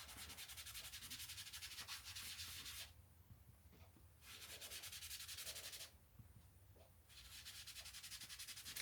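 Ink being rubbed around the edge of a handmade card, heard as a close, soft, steady scrubbing with two brief pauses between the sustained passes.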